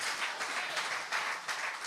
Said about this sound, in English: Give a round of applause to the ministers of health.